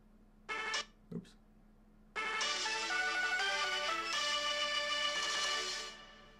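Short electronic video game jingles like phone ringtones: two brief tone blips, then a bright sustained melodic chime sequence that fades near the end, fairly faint.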